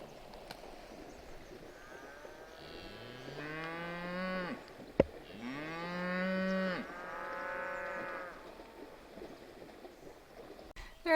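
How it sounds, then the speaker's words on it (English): Cows low near a Scottish beach, two or three long drawn-out moos rising and falling one after another, moderately distant over a quiet outdoor background. "Cows are coming back as well."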